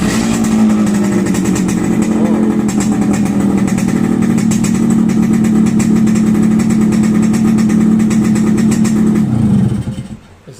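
A two-stroke chopper motorcycle engine runs loud and close with a steady, raspy drone through its exhaust for about ten seconds, then cuts off abruptly.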